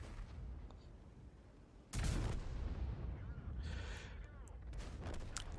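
A tank's large-calibre derp gun in World of Tanks fires with a sudden loud boom, followed by a sustained rumble and scattered clatter. Quieter engine and battle noise precede the shot.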